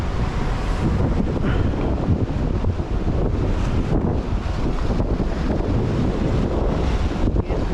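Big ocean surf rumbles continuously beside a pier, blended with strong wind buffeting against the microphone, a broad steady roar with no voices.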